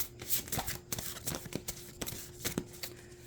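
A deck of oracle cards being shuffled by hand, a run of quick riffling, flicking sounds in steady bursts, close and clear with no talking.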